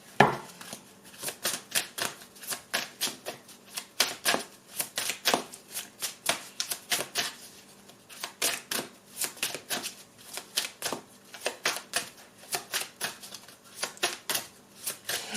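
A deck of oracle cards being shuffled, repeated rapid riffling bursts in a steady rhythm with brief pauses, close and fairly quiet, no voices.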